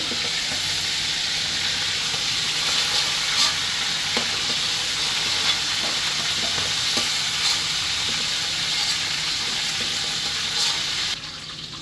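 Whole spices and onion frying together in hot oil for a chicken curry: bay leaf, cardamom, cinnamon, cloves and cumin seeds. A loud, steady hissing sizzle holds close throughout, with occasional scraping stirs, then drops abruptly quieter near the end.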